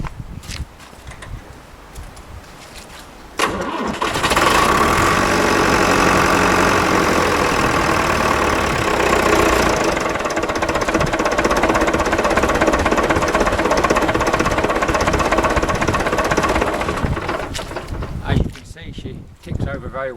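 An old diesel tractor engine, recently fitted with new pistons and liners, runs after a cold start with a steady, loud, rhythmic chugging that holds for many seconds after a quieter opening.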